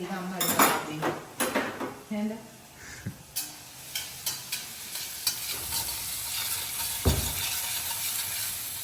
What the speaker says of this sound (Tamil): கொஞ்ச நேரம் அப்படியே இஞ்சி பூண்டு அப்படியே ஃப்ரை ஆகட்டும்.